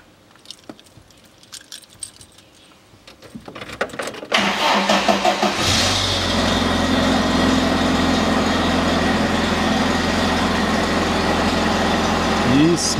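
A 2005 Chevrolet Niva 4x4 with its right front wheel jacked up is started: quiet handling sounds, a short cranking whir, then the engine catches and settles into a loud, steady idle.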